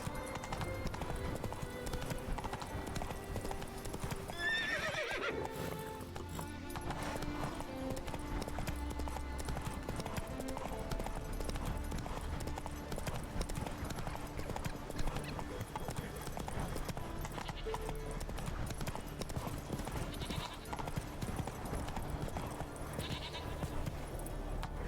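Geralt's horse Roach trots along in The Witcher 3 on Skellige, a steady clip-clop of hooves running throughout over a dense bed of game ambience and music.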